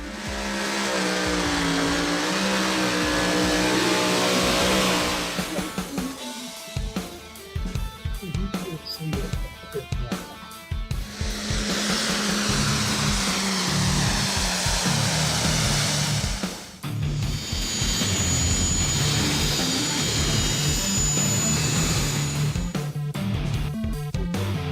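A pulling tractor at a county fair truck and tractor pull over a 300-foot track, engine roaring loud and sustained with revving surges and a brief drop partway through, no talk.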